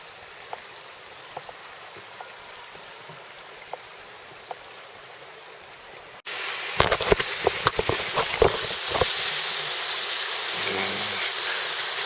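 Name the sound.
river flowing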